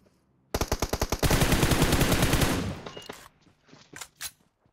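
Automatic gunfire in PUBG Mobile, a loud, rapid burst of evenly spaced shots that swells into a dense sustained volley, then fades into a few scattered distant shots and clatter.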